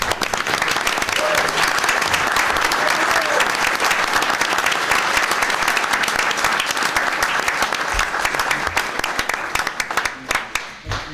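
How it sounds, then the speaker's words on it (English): Attendees at a Dearborn Heights city council meeting give a sustained round of applause, a thick, steady clapping that carries for about ten seconds before thinning out into a few scattered claps. "give a round of applause to Local 1355 for raising this."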